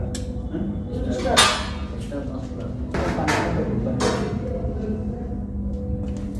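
Plates and dishes clattering during a cleanup, a few sharp clinks and knocks of crockery at close range, heard under ongoing conversation between people.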